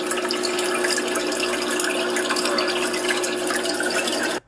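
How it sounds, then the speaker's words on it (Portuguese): A DIY freshwater aquarium skimmer with strong aeration bubbles and gurgles loudly and continuously up close, a dense watery fizz that stops abruptly at the end. "Eu vi que faz uma aeração assim muito forte"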